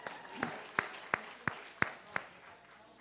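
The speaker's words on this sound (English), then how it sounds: "A round of applause." A small audience gives a round of applause, heard as about six sharp, evenly spaced claps over a quiet room, fairly faint and thin rather than a full ovation.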